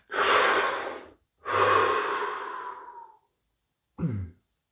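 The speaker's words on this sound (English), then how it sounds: "Deep breath." One person breathes in deeply and audibly, then lets out a long sigh, followed by a short sharp intake of air, all close and alone without talk.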